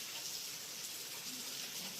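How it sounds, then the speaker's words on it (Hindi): Rain falls steadily outdoors in Himachal as a soft, continuous hiss, faint and even throughout with no voices. "प्लीज़ भगवान, प्लीज़ रोक दे बारिश, प्लीज़।"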